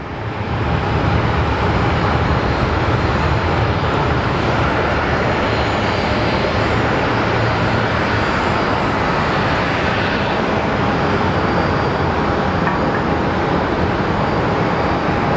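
A Hawker 750 business jet roars at Sky Harbor Airport on a damp day, a loud, steady broadband engine rush filling the whole stretch without a break, with no one talking over it.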